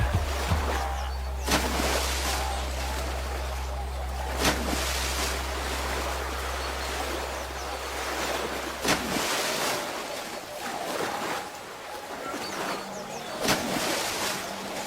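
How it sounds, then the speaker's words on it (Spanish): A rushing, foaming African river current, a broad continuous wash of water with wind, steady and moderately loud throughout with occasional surges, no voices. "Delante del río es una mezcla de espuma, corriente y sombras."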